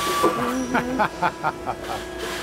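A 3,000-pound press in a trailer hitch factory smashes frozen parts, giving a steady hiss with a row of about six evenly spaced thumping strokes, close and fairly loud.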